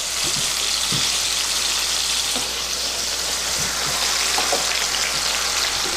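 Tomatoes cook in a pan with a steady, dense sizzle throughout and a few soft scrapes and knocks from stirring, close and fairly loud, without speech.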